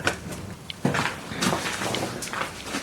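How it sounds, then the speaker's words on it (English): A key works the lock of a house door and the door is opened, giving a few short clicks and knocks up close, with a louder thud near the one-second mark and faint handling noise. "Keys in the door, as usual."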